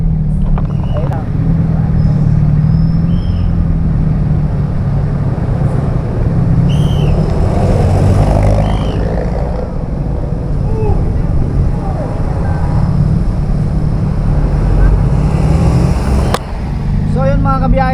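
Road traffic in Victoria, Laguna rumbles continuously and loudly, with steady engine drone from cars and motorcycles close by, while people talk throughout.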